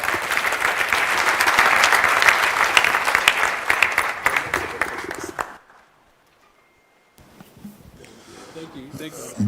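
Audience applause in a hall at a national championship launch, sustained and dense for about five seconds before cutting off abruptly into near silence, with faint voices returning afterward.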